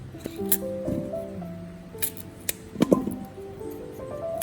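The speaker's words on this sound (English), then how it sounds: "First, break the ginger into smaller pieces." Fresh ginger being snapped into smaller pieces by hand in a kitchen, a few sharp brittle cracks and crunches spaced irregularly, close and fairly quiet with faint handling noise between breaks.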